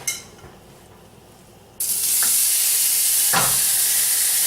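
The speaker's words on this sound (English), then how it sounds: "You hear that sizzle? That's just what we want." Cauliflower rice for vegetarian keto bibimbap hits hot fat in a pan, bursting into a loud, sustained sizzle after a quieter start, with a couple of brief stirring scrapes.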